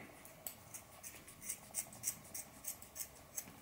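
Scissors cut through a Savotta backpack strap in a run of quick, close, rhythmic snips, each a crisp crunch at moderate loudness with no talk.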